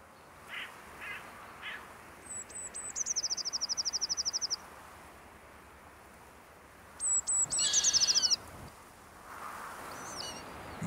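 Crows nesting near an eagle perched in a treetop give two loud bursts of harsh, rapid, rattling calls a few seconds apart. Fainter calls are scattered around them, over quiet outdoor ambience.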